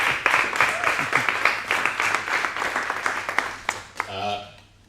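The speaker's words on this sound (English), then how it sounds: "Round of applause." An audience at a Localhost Perth tech meetup talk breaks into applause, a dense wash of clapping that swells and fades over a few seconds before a voice speaks at the end.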